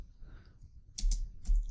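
Brief quick keystrokes on a computer keyboard while a command is entered, a few close, distinct clicks in two small bursts over a quiet background, no talk.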